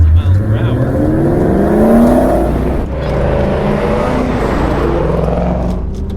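A vintage Chevrolet Corvette accelerates hard up to 60 mph with a loud, close engine roar that rises in pitch through the gears. No one speaks.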